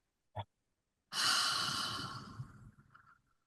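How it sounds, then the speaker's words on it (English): A single slow exhale through the mouth during a breathing exercise, a soft airy rush that starts strong and gradually fades, preceded by a brief faint breath noise. "Hold. Exhale with the mouth."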